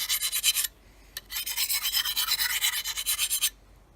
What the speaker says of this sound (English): this is just a little DMT diamond sharpener